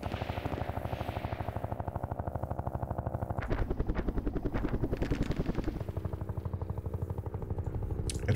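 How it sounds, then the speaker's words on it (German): Helicopters in the Vietnam strategy game Campaign Series: Vietnam give a steady, loud rotor chop with a rhythmic pulsing beat that holds throughout, sometimes roughening into a harsher rattle. "Und dann haben wir natürlich die beiden Helikopter hier."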